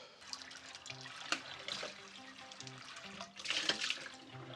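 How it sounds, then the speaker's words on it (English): Water from a tap runs steadily over an old, rusty cast iron pan. The hollow splashing shifts as the pan is moved and swells near the end, heard close up with no talk. "We'll give this a rinse."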